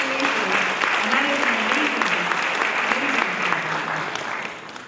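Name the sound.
audience applause at college convocation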